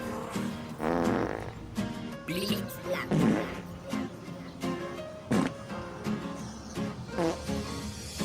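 Sputtering fart sounds repeat in bursts throughout a comic Cebuano novelty song about smelly farts, loud and close, mixed with voices and music.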